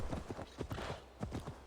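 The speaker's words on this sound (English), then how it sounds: "Horse." Horse hooves clip-clop at a steady walking rhythm in Assassin's Creed Valhalla, fairly quiet and close, with faint game ambience and no talk over them.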